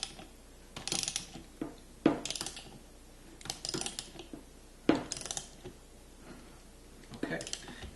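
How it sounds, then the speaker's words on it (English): A 17 mm ratchet wrench tightening a bolt while assembling a salon chair, several short bursts of rapid ratcheting clicks with metallic knocks between them, close, in a quiet room. "And then we take whatever wrench you've got, 17mm ratchet or open-end wrench or adjustable wrench,"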